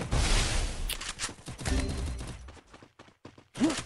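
Gun in the Free Fire video game firing in a rapid burst of close shots at the start, followed by scattered sharper cracks and brief gaps as the weapon jams, ending with a short whooshing sound.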